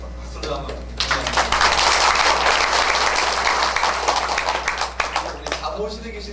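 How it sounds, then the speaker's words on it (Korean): Applause from a church congregation at a Friday prayer meeting, a dense, loud burst of clapping that swells after a moment and holds steady before thinning out into scattered claps near the end. "찬양들 박수를 한번"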